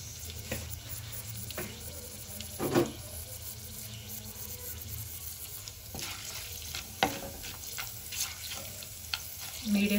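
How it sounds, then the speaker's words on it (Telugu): Whole spices and shahjeera fry in oil in a new clay pot for vegetable biryani, a soft steady sizzle broken by occasional stirring clinks and scrapes, close by, with a louder clatter near the end. "మంచి స్మెల్ వచ్చేంత వరకు ఫ్రై చేసుకుందాం మసాలాలన్నీ"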